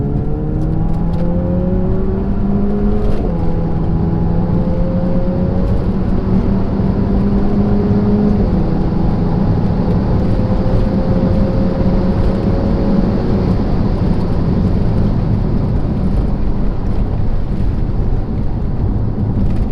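Renault Megane RS accelerating hard through the gears, a loud, close engine note climbing in pitch with clear drops at each shift, steady roar and no talk.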